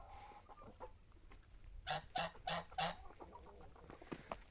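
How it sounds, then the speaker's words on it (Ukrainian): American bantam rooster and two hens clucking nearby in a run, a short series of four rhythmic clucks in the middle over a quiet background with faint scattered calls. "Ось півник американської породи. І дві курочки."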